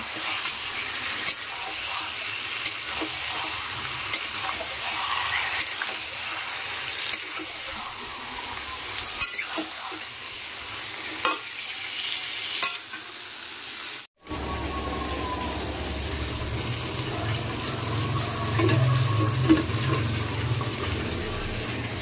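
Chicken fries in oil with tomato, a steady sizzle dotted with regular stirring clicks, before the sound cuts abruptly to a different, rougher, rumbling kitchen noise.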